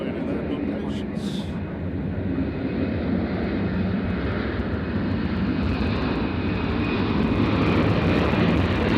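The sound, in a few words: Southwest airliner departing for LAX at Nashville airport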